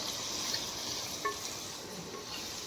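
Tomatoes and ginger-garlic paste frying in a pan for goat head curry, a steady broadband sizzle with faint stirring scrapes, close and continuous throughout with no talking.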